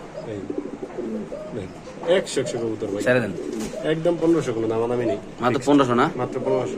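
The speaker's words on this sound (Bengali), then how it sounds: "ডিম বাচ্চা করা কবুতর নর তো এমনি ডাকতেছে" A male king pigeon coos in a repeated, rolling series of close, fairly loud calls with short pauses between the phrases.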